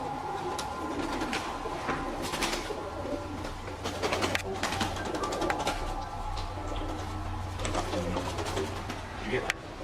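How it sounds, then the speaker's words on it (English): A pigeon coos repeatedly in a low, hollow rhythm, fairly close, over a steady background hum with faint clatter. "Why can I hear a pigeon up there but I can't see it?"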